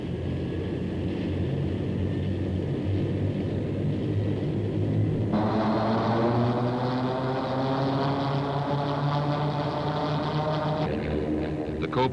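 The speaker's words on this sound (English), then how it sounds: "With the crew on board, the engine is started." A Lockheed Cheyenne helicopter engine starting with the crew on board: a steady mechanical drone, then a loud whine that rises and climbs in pitch as the turbine spools up, continuous and close.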